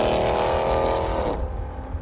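The 6.4-litre V8 of a Dodge Charger Scat Pack revs up loud and close, then the roar drops away into a lower rumble over about two seconds, with no voices.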